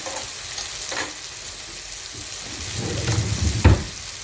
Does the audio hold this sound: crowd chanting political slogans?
no